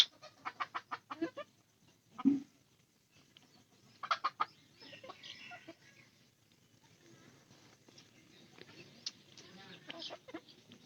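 Chickens cluck in a short burst of rapid calls, then give scattered clucks and squawks nearby, with quiet stretches in between and a person speaking softly at times.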